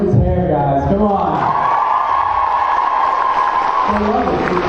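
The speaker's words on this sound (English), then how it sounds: "And a round of applause for Richard's hair" A convention panel audience breaks into loud, sustained cheering and applause for actor Richard Speight Jr.'s hair, with whoops rising over the clapping. The crowd roars close and steady before fading toward the end, where speech begins.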